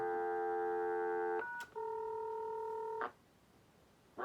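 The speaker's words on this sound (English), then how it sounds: "You just push the button, sends the tones." A 1967 Realtron computing service terminal sends DTMF tones over the line: a long steady dual tone, a short blip, then another sustained tone, clean and fairly quiet.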